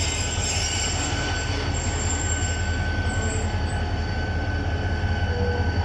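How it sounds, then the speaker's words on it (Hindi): An Awami Express passenger train halting at Jhimpir railway station, heard close as a steady, loud rumble of rolling cars with high wheel squeal running through the whole stretch. "अब इसके पीछे आ रही अवामी एक्सप्रेस, उसमें हम सफ़र करेंगे और ये रुक गई है जम्पी रेलवे स्टेशन पर।"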